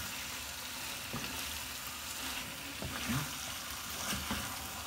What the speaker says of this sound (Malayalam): ഈ മാരിനേറ്റ് ചെയ്ത് വെച്ച ഈ മട്ടൺ ഇതിലേക്ക് ഒന്ന് ഇട്ട് നന്നായിട്ട് ഇളക്കിയെടുക്കാൻ പോവാം.